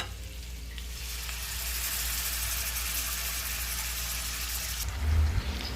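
Cream dory fish frying in melted butter in a pan, a steady, close sizzle and crackle running throughout with a brief louder burst near the end.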